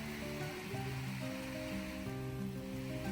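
Water sprays over a fence with a continuous hissing rush, like a hose stream spattering across a surface. Soft tonal sounds run underneath.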